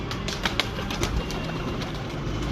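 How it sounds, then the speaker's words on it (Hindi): Red-eyed breeder pigeons in a loft cooing softly, with a few sharp wing flaps and scattered clicks over a low steady background hum. "ये लाल आंखों वाले मेरे कबूतर हैं"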